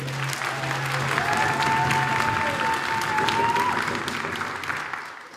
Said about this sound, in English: You get one more round of applause for them real quick